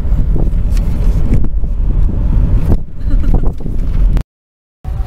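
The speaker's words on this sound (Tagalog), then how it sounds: "Mahangin dito sa Lipa." Gusty wind outdoors in Lipa, Batangas buffets the microphone in heavy rumbling bursts, loud and close, with brief lulls and a sudden cutout near the end.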